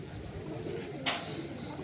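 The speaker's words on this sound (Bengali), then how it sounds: "এটা নর পায়রা" A male Green Eye Malwai pigeon of Punjabi stock gives a brief, faint, low coo nearby, with a single sharp tap partway through.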